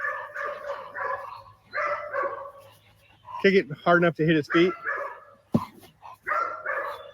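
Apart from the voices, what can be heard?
protection dog barking during training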